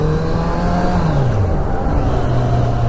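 A Kawasaki Z900 superbike's engine revs out on the NH34 highway, a loud, close, throaty drone whose pitch rises and drops as the throttle opens and eases.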